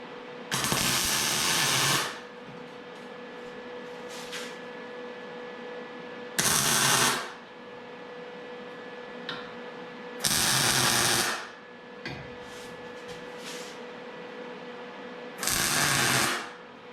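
Four bursts of tack welding joining steel pieces of a homemade ski/snowboard rail, each a loud crackling hiss lasting one to two seconds, separated by quieter gaps with a steady background hum.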